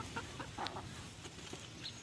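Laying hens on a farm in the rainy season give soft, scattered clucks, several short calls close by over a steady background hiss, with no talking.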